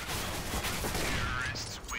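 Gunfire from the video game Overwatch, a dense burst of shots crackling across the whole clip, mixed with game effects and a voice talking over it.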